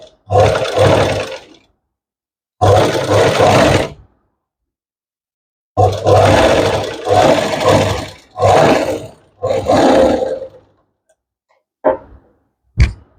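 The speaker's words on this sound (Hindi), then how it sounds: "फोल्ड करने के बाद यहाँ पे सिलाई लगाएंगे।" A sewing machine stitches a folded fabric strip for a dress, running in several loud bursts of steady whirring separated by silent pauses, ending with two short taps.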